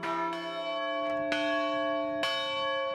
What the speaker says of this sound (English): This motor works like a traditional motor with a rotating shaft, pulls on a chain to cause the bell to swing.